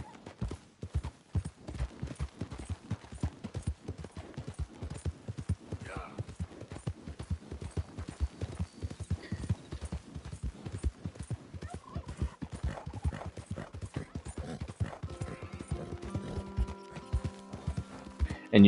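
Horse galloping in the video game Red Dead Redemption 2, a steady fast rhythm of hoofbeats on the ground running throughout, close and clear, with brief other game sounds near the end.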